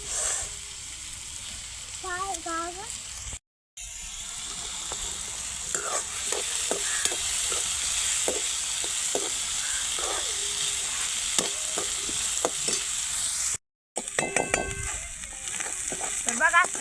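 Onions sautéing in a pan for a masoor curry, a continuous close sizzle with scattered spatula taps and stirring scrapes, briefly cut out twice, with faint murmured speech at moments.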